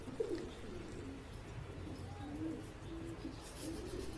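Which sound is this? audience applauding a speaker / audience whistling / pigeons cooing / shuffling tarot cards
pigeons cooing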